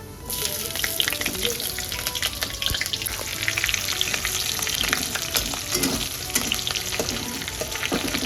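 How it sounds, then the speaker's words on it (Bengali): Cut cauliflower and potato fry in a pan, a steady crackling sizzle with occasional stirring clicks, close and continuous. "তো এখানে ভাজতে বসাবো।"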